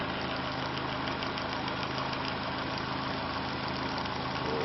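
An electric input motor runs steadily while driving a wheel, a constant, even mechanical hum with a fine vibrating texture and no pauses.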